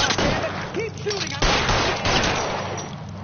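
Gunfire in the crime video game L.A. Noire, a dense, continuous barrage of shots close and loud throughout, with a short lull before it resumes, and a voice briefly heard over the shooting.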